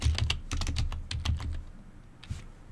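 Quick, close clicking of keys on a computer keyboard, typed in short bursts with brief pauses between them.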